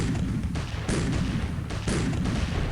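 Panzer Grenadier unit attacking with gunfire in the strategy game Civilization III: dense, rumbling battle bursts that roll on continuously, with fresh volleys starting at about one-second intervals.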